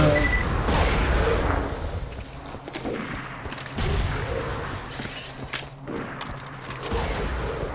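Slag sniper rifles fire in Borderlands 2, a Purple Corinthian and a Malawan with a Jacob's barrel among them: a continuous clatter of gunfire with repeated heavy shots and bursts, loud and busy throughout.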